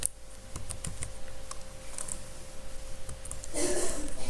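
Keys clicking on a computer keyboard as a search keyword is typed into Google, a string of light irregular taps up close, with a louder burst of noise near the end.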